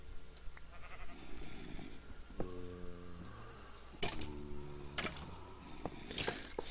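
Sheep in a video game bleat twice in long, wavering calls, separated by a pause, over a quiet background with faint ticking and clicks.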